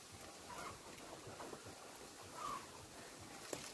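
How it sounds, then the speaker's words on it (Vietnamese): Wind gusts through the top of a gac vine during air layering high in the tree, a steady breathy rush with soft buffeting swells, no voices. "gió quá"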